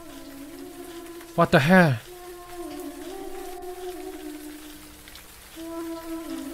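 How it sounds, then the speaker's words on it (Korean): Heavy rain falls steadily in the Siren Head horror video game, a constant patter under low droning tones, while a player's voice breaks in briefly with a sharp exclamation. "비가 너무 많이 옵니다."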